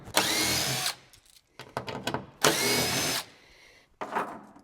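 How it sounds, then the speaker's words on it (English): Power tool driving out bolts from the lower tailgate panel of a Jeep Gladiator, in two long close whirring bursts separated by short ratcheting stops and clicks, ending with a brief final spurt. "you also want to remove the 2 bolts from the lower panel"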